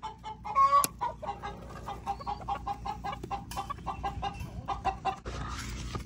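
Hen clucking close by on a farm, a string of short, choppy clucks in an uneven rhythm, with fainter chicken sounds around it.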